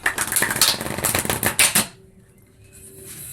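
A botched riffle shuffle of a tarot deck, a rapid burst of flapping, clattering card noise for almost two seconds that stops abruptly, leaving a quiet room.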